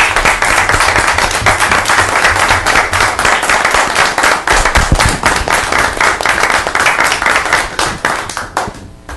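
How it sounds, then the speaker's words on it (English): A standing audience at a redevelopment board meeting gives loud, close applause for an honored family, dense hand claps with some distinct individual claps near the microphone, tapering off at the end. "Will you please stand up and give a round of applause to the Bethune family?"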